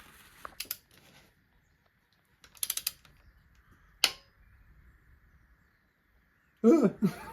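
Torque wrench tightening bolts on a big power engine in a home garage gives a few sharp metallic clicks and ratcheting creaks, with one crisp click standing out, then a louder rattling burst near the end, all fairly close with no talk.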